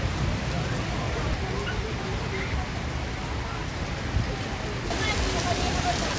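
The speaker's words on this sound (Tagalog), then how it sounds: "Ayan guys, umulan na po ng malakas." Heavy rain pouring steadily at a ningnangan grill restaurant in Silang, a dense, loud, continuous hiss of drops on surfaces that fills the whole stretch without letup.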